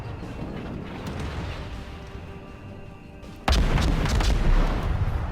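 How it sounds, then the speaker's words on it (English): Naval gun volleys from ships in a World of Warships ranked battle, heard as a low rumbling boom that builds and then a loud heavy blast bursting in around midway, followed by sustained roaring rumble. "I get a couple volleys off at Deprived Pickle, and a couple more at their Benson"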